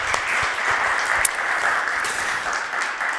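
Audience applause at a livestreamed innovation challenge event, a steady wash of clapping that holds at an even level for a few seconds without talk.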